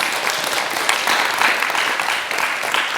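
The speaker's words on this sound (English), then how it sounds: "Please give them a round of applause." An audience in a school auditorium at a talks event gives a round of applause for senior English teachers, a steady, dense wash of many hands clapping, loud and sustained with no talk.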